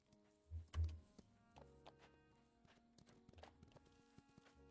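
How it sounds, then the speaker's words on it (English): Horse hooves clip-clop in the farming video game Ranch of Rivershine, a couple of soft thuds near the start followed by faint, scattered steps over a quiet background. "Hey, small horse, let's go do some training."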